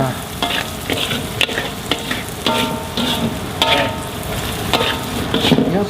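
A spatula works through spicy tilapia pecak in a hot pan, with repeated metallic scrapes and clinks at an uneven, busy pace over a continuous close sizzle.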